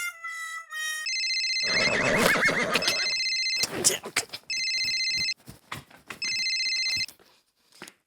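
An old-style telephone bell rings in repeated bursts, loud and close, alternating with a person talking and a horse whinnying at the start.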